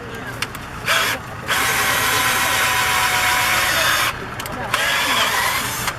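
A corded drill fitted with a speed bit bores a hole for shiitake mushroom cultivation, two long steady whining runs separated by brief pauses, close and loud, with speech also present.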